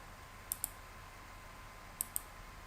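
Computer mouse clicking: two pairs of crisp, close, quiet double clicks over faint room hiss.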